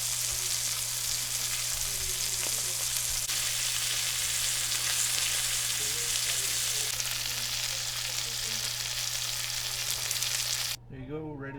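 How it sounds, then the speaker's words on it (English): A beef bottom round roast browns in a pot, giving a constant loud sizzle with a low steady hum beneath and a few soft knocks. The sizzle cuts out abruptly near the end. "Just browning the roast."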